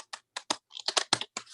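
A somewhat stiff deck of tarot or oracle cards is shuffled by hand, giving a quick, uneven series of crisp slaps and clicks, close and quiet, with no talking.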